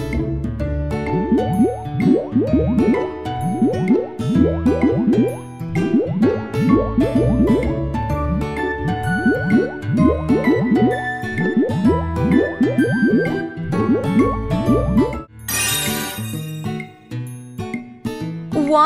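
Soft wet squishing and dripping pops of soap bubbles in a Tayo the Little Bus video game repeat rhythmically over bouncy music, ending with a brief bright sparkle near the end.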